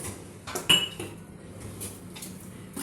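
A spoon stirs a cauliflower curry in a pan, giving a few light metallic clinks and scrapes that sound close but quiet against a hushed kitchen.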